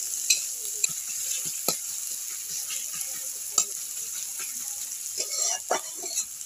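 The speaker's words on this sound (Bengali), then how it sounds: "এবার পেঁয়াজটা আমি লাল লাল করে ভেজে নেব" Onions fry in mustard oil in a pan, a soft hiss with scattered pops, crackles and occasional scraping stirs, heard up close and fairly quiet.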